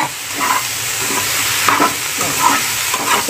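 Masala okra (bhindi) is stirred in a hot pan: a loud, close sizzle with rhythmic stirring strokes roughly every half second.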